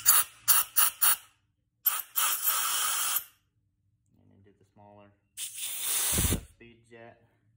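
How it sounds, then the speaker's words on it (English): Compressed air is blown through a moped carburetor in short hissing blasts, first several quick puffs and then longer sprays, with quiet breathy sounds and a brief low thump between them. "Just blow some compressed air through here."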